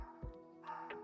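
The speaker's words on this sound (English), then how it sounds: "that Meg is barking like hell" A dog named Meg barks twice in short, sharp bursts, fairly close and moderately loud, with a low steady hum underneath.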